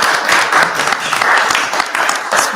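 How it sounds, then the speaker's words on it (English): An audience applauds a panel at an association conference on African American life and history, loud sustained clapping throughout without pauses. "Round of applause, please, for this magnificent panel."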